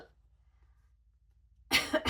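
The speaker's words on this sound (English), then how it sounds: "I do apologise for my coughing" A short, sharp cough bursts out near the end after near silence, close and fairly loud.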